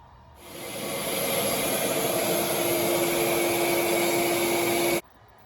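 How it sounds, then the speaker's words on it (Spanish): Steady broadband roar of a vacuum cleaner drawing smoke out of a laser cutter during a test on 5 mm material, starting abruptly, holding loud and constant for about four and a half seconds, then cutting off. "Aquí ya improvisé, instalé una aspiradora"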